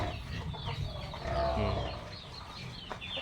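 Chickens clucking and squawking close by, several birds calling in irregular bursts over a busy farmyard background.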